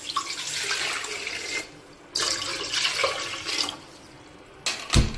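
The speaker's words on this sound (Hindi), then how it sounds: "इडली का जो कुकर है उसमें थोड़ा सा पानी डाल के" Tap water runs into an idli cooker in a home kitchen, a steady hissing stream that stops briefly, resumes, fades again, and ends with a short splash or clatter.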